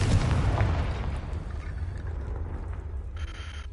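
The Confringo blasting spell going off in Hogwarts Legacy, a heavy rumbling explosion that bursts at the start and then fades into a low roar, with a faint chime near the end.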